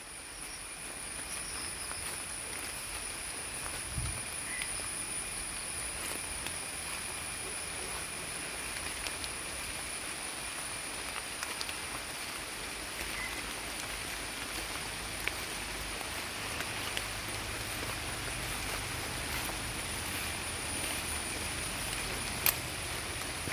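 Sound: rain

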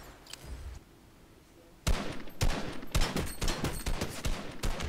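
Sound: gunfire in Fortnite video game

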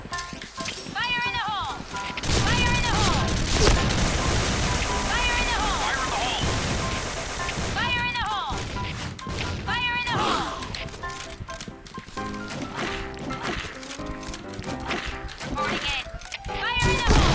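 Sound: gunfire in the video game Point Blank

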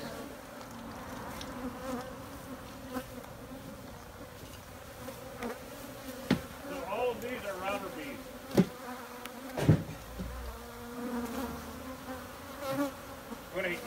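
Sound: swarm of bees buzzing

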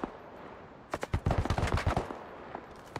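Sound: machine gun suppressive fire in a shooter video game

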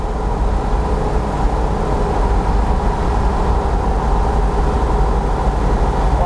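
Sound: Bradley GT II kit car cruising at 70 mph, road noise

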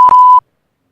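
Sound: censor beep

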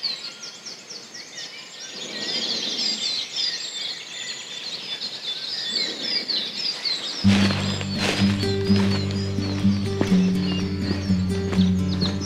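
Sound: dawn chorus birdsong

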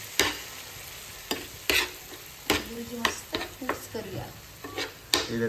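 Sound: bombil (Bombay duck) burji cooking in pan

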